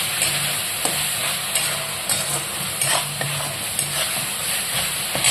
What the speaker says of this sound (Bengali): এবার আমি এটা ভালো করে কষিয়ে নেব, ভালো করে কষিয়ে নেব।